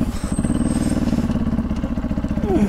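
A motorcycle engine runs steadily close by in a village, its low rhythmic idle throbbing through the whole stretch with a brief squeal near the end.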